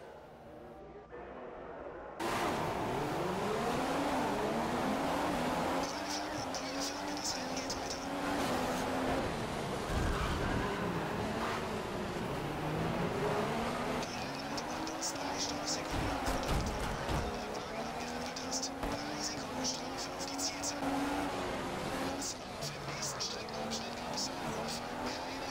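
A McLaren Honda Formula 1 car in the F1 2015 racing game, its high-pitched engine screaming continuously and rising and falling through gear changes, with brief tire noise and a player talking over it.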